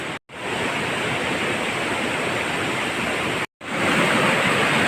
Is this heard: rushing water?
yes